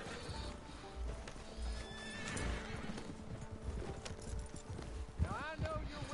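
Horse hooves clip-clop at close range in Red Dead Redemption 2, then a horse neighs loudly near the end, with faint game ambience behind.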